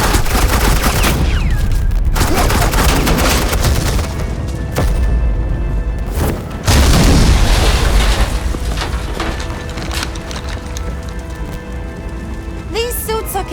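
Sustained suppressing gunfire rattles through a Batman: The Enemy Within scene, dense overlapping volleys and heavy impacts that surge loud, ease off, then pick up again, with a voice speaking over the din.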